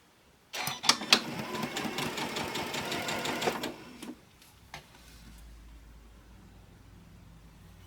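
A sewing machine runs a straight stitch through layered flannel for a rag quilt, a rapid steady mechanical clatter for about three seconds, then stops, leaving a few faint clicks and low hum.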